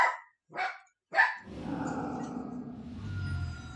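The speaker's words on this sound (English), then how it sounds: "What are you barking at?" A dog barks three sharp times in quick succession, fairly close, followed by a low rumbling background noise with no barking.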